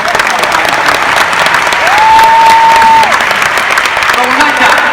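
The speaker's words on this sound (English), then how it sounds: "One round of applause for our..." A large audience applauding at the Team Beachbody Summit 2016 for top network-marketing coaches, a loud, sustained wash of clapping with crowd noise and a brief tonal whistle-like sweep in the middle.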